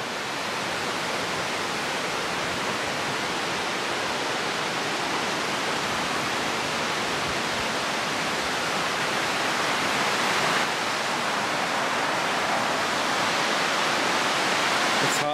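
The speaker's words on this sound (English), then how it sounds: "That water looks refreshing." Steady, broadband rush of flowing water near Appalachia, Virginia, continuous and fairly close for the whole stretch, with no voices over it.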